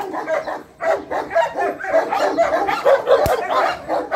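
Fierce fighting dog barking and yipping in rapid repeated bursts, close and loud, with whimpering notes between barks.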